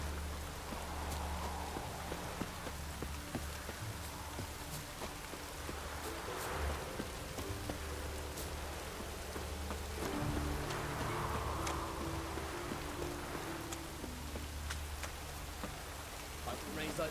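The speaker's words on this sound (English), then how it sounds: "Hope rains like this come sowing time." Steady rain falling in The Witcher 3, a continuous soft hiss with drops on surfaces, joined by the clip-clop of horse hooves and low game ambience, with a voice speaking at times.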